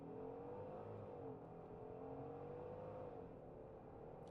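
A Genesis GV70 V6 with 375 horsepower launching hard under launch control, its engine note rising steadily in pitch as it accelerates, heard from inside the cabin at a moderate, continuous level.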